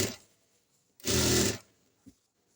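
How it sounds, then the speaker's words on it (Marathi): A sewing machine runs briefly while stitching a straight line on a blouse, one short burst of about half a second, close and moderately loud, with quiet handling sounds before and after. "ही जी लाईन आखलेली आहे या लाईनवर आपल्याला सरळ एक शिलाई घेऊन घ्यायची आहे आधी"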